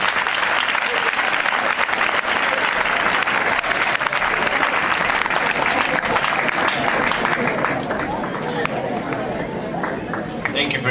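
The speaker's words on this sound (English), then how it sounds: "I'd like you to give yourselves a big round of applause" A school audience at a programme introduction gives a long round of applause, thick continuous clapping that stays loud and dense for around eleven seconds, with crowd chatter and voices mixed in as it gradually thins toward the end.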